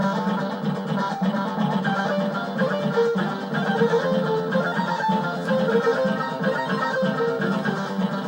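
Sanxion title music playing on a Commodore 64: a lively chiptune with bright synth melody lines over a pulsing bass, loud and continuous, with no talking.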